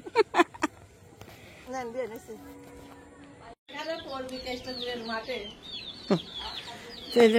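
Chickens cluck and squawk nearby in short bursts, with birds chirping in the background and brief louder calls near the end.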